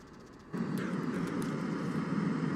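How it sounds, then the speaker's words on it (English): Airplane droning overhead in the game Escape From Tarkov, a steady engine roar that swells in suddenly and holds loud and continuous with no speech over it. "I don't want to hear the plane. I wish you could turn the plane down."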